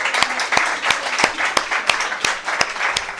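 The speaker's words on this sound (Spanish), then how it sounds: "Aplausos, perdón." At a feminism and literature event, applause comes through with a regular pattern of sharp, loud claps, rhythmic and close, and no voices over it.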